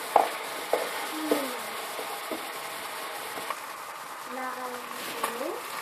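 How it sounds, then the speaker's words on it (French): Meat and tomato paste stirred in a pan for a lasagne sauce, with a few soft scraping knocks and a faint low sizzle in a quiet kitchen. "Et on mélange."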